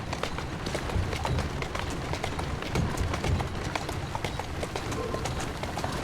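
Horse hooves clip-clop at a walk in Assassin's Creed Syndicate, with a continuous busy patter of fairly faint hoof beats over a constant background.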